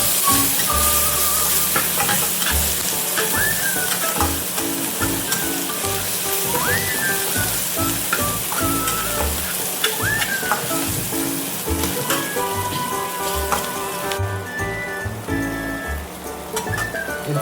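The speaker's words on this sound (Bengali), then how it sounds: "এরপরে এবার পেঁয়াজটা ভাজা প্রায় কমপ্লিট" Onions and green chili frying and sizzling steadily in a pan, with occasional scrapes and clinks of stirring, close and continuous throughout with no talking.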